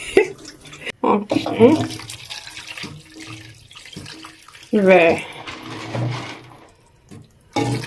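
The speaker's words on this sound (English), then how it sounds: "I am putting plenty water." Tap water runs steadily into a pot while preparing Nigerian soup, a continuous splashing hiss under a woman's speech.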